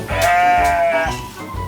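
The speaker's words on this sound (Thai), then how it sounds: "เจ้าแกะนี่ไง" Sheep bleating on a farm, a single long wavering bleat, close and fairly loud, followed by a shorter call, with no talk over it.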